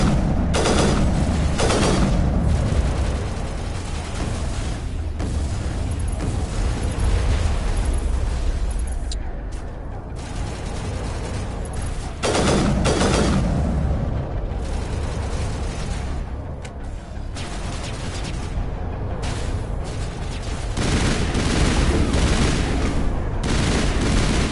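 Gunfire crackles through a Mass Effect battle, sniper shots mixed with rapid bursts and booms in a dense, loud stream of combat noise, with someone talking over it at times.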